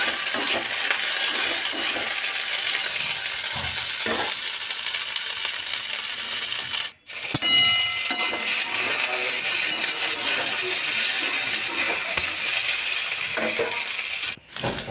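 Steady sizzling from green peas frying in a pan, with occasional light clinks of stirring and two brief pauses in the hiss.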